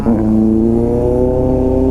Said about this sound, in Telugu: ఏదో స్పోర్ట్స్ బైక్ వస్తుంది అనుకుంటా.